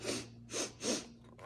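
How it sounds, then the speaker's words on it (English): A bear emerging from its den sniffs the air in three breathy, hissing snorts, each a little over a tenth of a second long and close up, over a faint steady hum. "He stretched and he sniffed."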